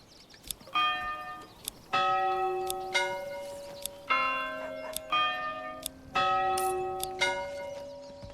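A clanky church bell in the medieval city-builder game Manor Lords rings out in repeated strikes, roughly once a second, each with a bright metallic attack and a ringing, slowly decaying tone, loud and close with no talk.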